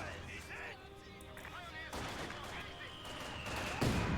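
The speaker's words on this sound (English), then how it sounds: "Ooh, mortar lands right dead center in the middle of that con blob." Mortar blasts and rifle fire crackle through a real-time strategy battle, with sharp repeated shots and heavy impacts layered over a dense mix of game sounds.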